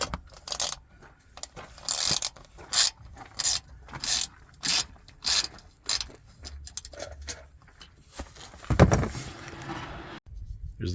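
A quarter-inch ratchet with a 7mm socket clicks in short repeated bursts while removing bolts from a rubber guard under a 2021 Mustang GT, with a few metallic clunks and a louder knock near the end.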